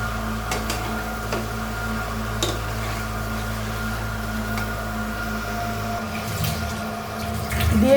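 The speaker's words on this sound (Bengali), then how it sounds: "দিয়ে দিলাম সামান্য জল" A little water is poured into a pot of vegetable curry with papaya on the stove, a soft steady trickle and splash over a low hum, ending with a brief clatter.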